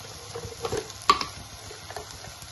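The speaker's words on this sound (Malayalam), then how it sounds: "അതിൻ്റെ പച്ചമണം മാറുന്നത് വരെ നല്ലതുപോലെ ഇളക്കണം." Liver roast with black pepper powder and masala powder is stirred in a frying pan, giving a faint, soft sizzle broken by a few quiet spatula scrapes and one sharper knock.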